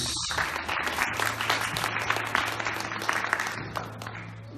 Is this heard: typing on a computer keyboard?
no